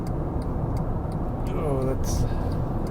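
Car interior while driving on a road, a steady, loud low rumble of engine and road noise with a soft ticking indicator, and a person talking over it.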